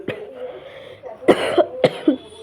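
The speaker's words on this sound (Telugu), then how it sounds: "నాకు కొంచెం కోల్డ్ ఉంది, అందుకనే ఇట్లా దగ్గులు వస్తున్నాయి" A person with a cold coughs several times, close and loud: a single cough, then two quick pairs of harsh, chesty bursts.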